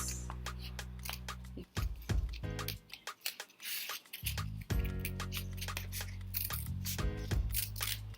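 Scissors snip around the outline of a paper face for an MLK art activity, a quick series of close, crisp cuts and rustling paper, with a brief quiet pause midway.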